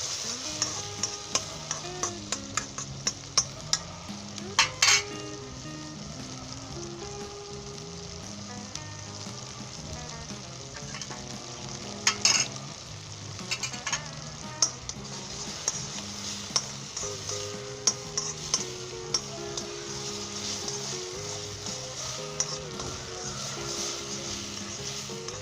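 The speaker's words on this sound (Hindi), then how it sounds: "लिए अच्छे तरीके से फ्राई कर लेंगे।" Okra frying in a pan for dam wali bhindi salan, a steady sizzle running throughout with frequent sharp clinks and scrapes of a spatula stirring against the metal, close up with no voices.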